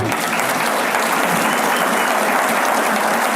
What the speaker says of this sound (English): Those are Republicans clapping for him.